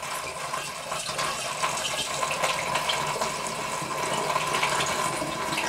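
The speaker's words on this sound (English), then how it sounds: "when you've opened the carton and you're pouring it into your demijohn" Apple juice pours steadily from a carton with an extra hole cut for a smooth flow into a glass demijohn while making cranberry cider, giving a continuous liquid gush and splash, close and even throughout.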